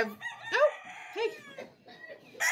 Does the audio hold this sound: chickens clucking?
yes